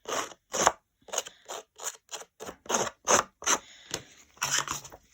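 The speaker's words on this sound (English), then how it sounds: "Using a pair of scissors, I've just roughed up the edge of the card to give it a bit of an age look." Scissors snip and scrape along the edge of a craft card to rough it up, a dozen or so crisp, close cuts in an uneven rhythm, each short rasp separated by brief silence.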